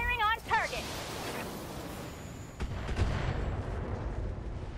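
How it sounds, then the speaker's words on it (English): Mech weapons firing in the Battletech video game: a short voice call, then a rumbling barrage of muffled booms and rolling blasts that builds into a steady roar of fire. "Firing on target!"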